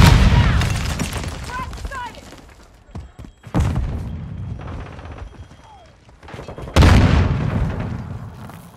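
Semtex grenade explosion in the shooter Modern Warfare II, amid close-range shotgun and claymore combat; several sharp, loud booms and bursts spaced a few seconds apart, with gunfire and shouted voice lines in between.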